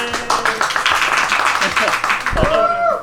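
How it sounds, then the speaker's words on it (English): Scattered clapping from a small crowd at a Pokémon TCG Asia Open event, close and uneven, mixed with cheering voices and chatter throughout, with a louder thump near the end. "Background applause."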